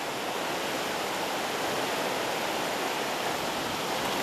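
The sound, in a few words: strong river current rushing below a valley bridge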